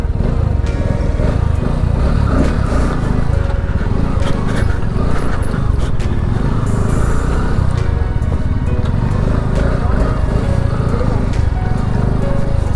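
A Bajaj NS200 motorcycle rides steadily with a continuous, loud engine drone and heavy wind rush throughout, with speech tagged but no clear words.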